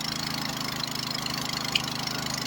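A 5 HP petrol water pump engine runs steadily at idle, a constant mechanical drone with a low rhythmic throb and no voices.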